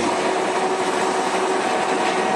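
A cement truck's mixer drum being revved, giving a loud, steady mechanical roar with a whining hum that holds constant throughout, with no talking.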